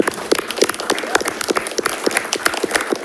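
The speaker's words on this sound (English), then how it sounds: "Just one more round of applause for all their hard work, especially over the summer." Brisk round of clapping from a school board meeting audience honoring teachers, dense and steady with sharp individual claps close by, filling the whole stretch without a break.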